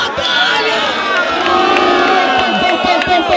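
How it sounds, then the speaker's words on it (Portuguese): Crowd at a street rap battle in Barueri, São Paulo roars and cheers loudly, with shouts, whoops and scattered claps blending into a continuous, close, energetic din. "Barulho pra batalha!"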